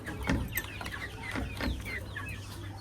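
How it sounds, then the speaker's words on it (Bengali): Native Bengali hens on a small farm setup cluck softly in short, scattered calls over a steady low background hum, with no talking. "এখানে একটা দেশি মুরগি সেট আপ"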